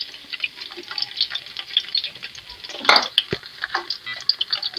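One cup of chopped onions stirred in hot oil in a pot for Karachi-style kadhi, sizzling steadily with clinks of a spoon against the metal and one louder scrape midway.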